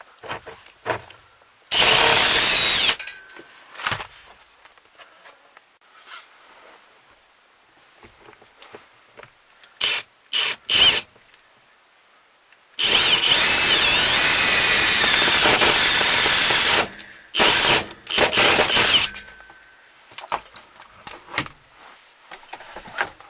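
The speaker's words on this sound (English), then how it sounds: "then we'll start drilling some holes" A power drill boring holes for bolting something down to the ground, heard as two long, loud grinding runs and several short bursts, separated by quiet pauses.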